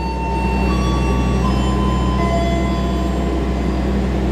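Doho passenger train pulling out of a station in Indonesia, a steady loud rumble with sustained tonal whine and hum throughout, no talk.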